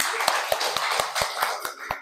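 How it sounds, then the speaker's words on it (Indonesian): A class of students claps in steady unison, about eight evenly spaced claps in two seconds, with faint voices underneath. "tepuk tangan dulu buat kita semua"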